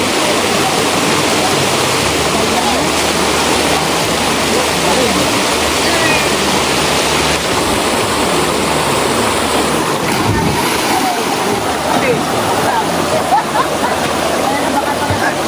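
A clear mountain stream in Minahan, General Nakar, Quezon, rushes loud and steady in a dense, continuous wash, with people talking and calling out over the flowing water.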